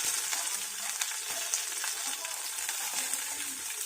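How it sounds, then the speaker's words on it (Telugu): Asafoetida added to hot oil for a buttermilk charu tempering fries with a continuous, loud, close sizzling hiss dotted with light pops and crackles, and no speech over it. "తర్వాత కొంచెం ఇంగు వేయాలండి"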